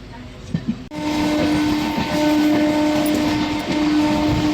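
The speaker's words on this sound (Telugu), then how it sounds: "ఇప్పుడు వచ్చేసి మన ట్రైన్ నిడదోల మీదకి అయితే వెళ్తుందండి" A Narasapur–Rajahmundry MEMU express train runs at speed toward Nidadavolu, its loud steady rumble and rail noise filling the cabin after a brief quieter start, with a faint horn-like tone sustained throughout.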